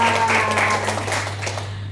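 Audience applause at a seminar, a dense steady clatter of many hands over a constant electrical hum, fading slightly toward the end.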